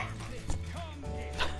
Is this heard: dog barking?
yes